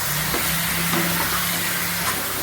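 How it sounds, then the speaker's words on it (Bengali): Biryani ingredients, with a splash of kewra water, sauté in a hot pan with a steady, dense sizzle and hiss. It goes on without a break and sits close to the listener. "এখন এগুলো সব ভালো করে একটু কষাই নেব।"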